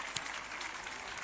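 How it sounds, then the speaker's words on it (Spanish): Brief burst of crowd applause from an audience at a women's football team presentation, clapping for the new team shirt. A sharp clap stands out at the start, and the rest is a steady, even wash of clapping. "Un aplauso si os mola."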